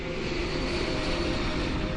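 Steady, dense engine roar of a DC-10 airliner in flight, a continuous loud drone with a low rumble underneath and no change across the span, no voices heard.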